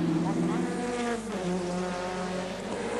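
Touring cars racing at Symmons Plains in the 1991 Australian Touring Car Championship, their engines a steady loud drone with shifting pitch as cars pass, running beneath continuous race commentary.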